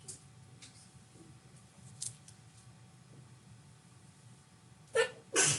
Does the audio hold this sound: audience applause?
no